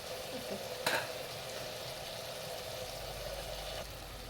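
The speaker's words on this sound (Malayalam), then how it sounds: "ഇത് നല്ലതുപോലെ വഴന്ന് വരട്ടെ." Onion, tomato, green chili, garlic and ginger sauté in a pan, with a steady, even sizzle throughout and a brief clatter near the start.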